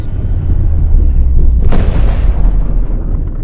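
A single loud, sharp gunshot boom strikes a ballistic backpack during a high-speed firearm test, landing about midway through over a constant heavy background rumble.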